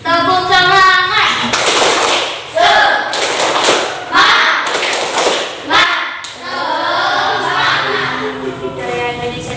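Elementary classroom doing a spirited group clap, loud dense bursts of hand claps and thumps in a rhythmic pattern mixed with children chanting and a teacher's voice.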